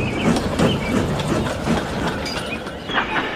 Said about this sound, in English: Duck arrived with a train of empty freight cars.